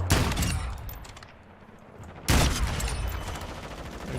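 Gunfire in a shooter video game: two bursts of dense rapid shots, one at the start and another just past the two-second mark, loud and close with a ringing tail between them and no talk.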